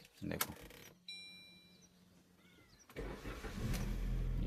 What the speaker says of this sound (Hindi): ये गाड़ी पेट्रोल में चालू हो गई है